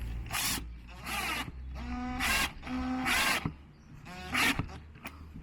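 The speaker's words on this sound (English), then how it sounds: "I've got some little self-tapping screws." Self-tapping screws driven into a car speaker mount on a Smart ForTwo 450, a power driver whirring in several short bursts with pauses between, close and fairly loud.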